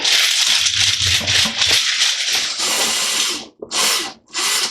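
Power drill driving two screws into the bottom of a plastic bucket, close whirring bursts with shifting pitch that stop and restart in short pulses, the last two runs brief and separated by silence.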